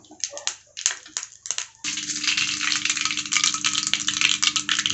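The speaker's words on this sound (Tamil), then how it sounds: "நெய்யில் கடுகு தாளித்து அந்த மாவில் சேர்த்துக்கலாம். கடுகு நல்லா பொரிஞ்சு வருது." Mustard seeds crackle and splutter in hot ghee, first as scattered sharp pops, then as a loud, steady, close sizzle with continuous popping throughout.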